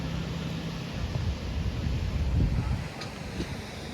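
Wind and sea waves at Devbag beach in Malvan, Konkan coast: a continuous broad roar of surf and wind buffeting close to the microphone, swelling slightly midway, with no clear voices.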